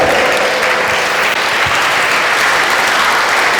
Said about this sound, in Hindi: मेरे लिए ना सही राम के चरित्र पर आपकी तालियां बजनी चाहिए